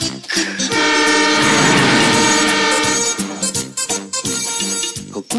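A Japanese commuter train in the 1990 film Ultraman Graffiti runs loudly from close by, with a continuous rumble and rapid clickety-clack of wheels over rail joints, and the rhythm grows choppier toward the end.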